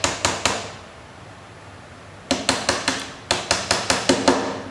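A child-safe toy hammer drives a wooden dowel into a hole in a simple-machines building kit, sounding as three quick sharp taps, a pause, then two rapid bursts of about five even knocks each, close and crisp.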